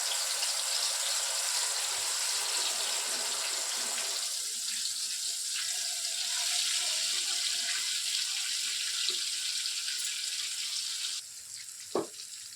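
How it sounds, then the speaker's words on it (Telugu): Marinated chicken pieces for Andhra-style Arabic chicken mandi frying in hot oil, a steady loud hiss and sizzle filling the whole stretch, easing slightly partway through, with a brief clink near the end and no talk. "ఇప్పుడు మ్యారినేట్ అయినటువంటి చికెన్ పీసెస్ని ఫ్రై కోసం వేస్తున్నాను."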